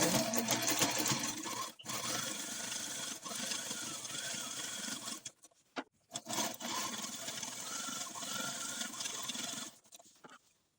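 A sewing machine stitches along the very edge of a fabric pouch, running in a steady continuous whir with a few short stops before resuming.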